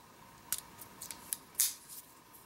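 The scissors of a Leatherman Free P4 multitool are opened, giving several small, close metallic clicks and snips in quick succession, with one louder click near the end, quiet and without talk.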